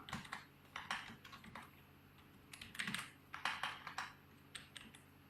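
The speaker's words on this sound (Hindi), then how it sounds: "अब इस तरह हमने टाइप कर लिया" Fingers tapping out a name on a computer keyboard during a beginner's Microsoft Office lesson, bursts of close, crisp keystrokes in irregular clusters separated by short pauses.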